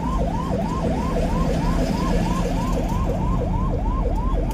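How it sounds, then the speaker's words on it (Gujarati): A vehicle siren wails in a steady, rapidly repeating up-and-down yelp, loud and close, with engine rumble underneath and no talking. "સાયરન ચાલુ કરો તો ના સમસ્યા ગાડીના."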